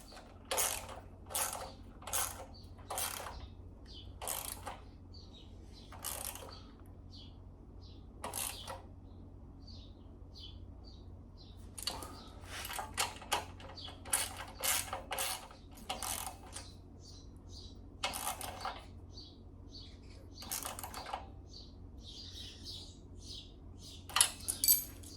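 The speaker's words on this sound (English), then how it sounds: "now we'll get a couple wrenches," Metal wrenches click and clink in scattered bursts while bolts are tightened on a 1972 Volkswagen Super Beetle engine during a refresh, with short ratcheting clusters over a low steady hum and no talking.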